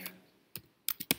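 Brief typing on a computer keyboard while building a circuit in simulation software: a few crisp, close key clicks spaced irregularly over about a second, with no talk.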